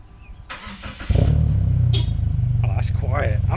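A 2022 Subaru WRX fitted with a Remark muffler starts remotely, its engine catching partway through and settling into a low, steady idle as people talk nearby.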